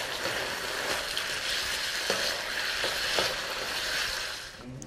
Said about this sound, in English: Ooh, you can see it sizzling.